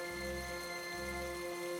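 Heavy rain pours steadily on a poor family's hut, a dense continuous hiss with a low droning undertone and no voices.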